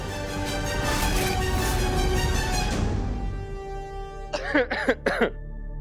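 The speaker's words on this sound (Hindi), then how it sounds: "तुझे इतनी खांसी क्यों आ रही है?" After a loud wash of background sound fades, a few sharp coughs ring out close by in a quick cluster.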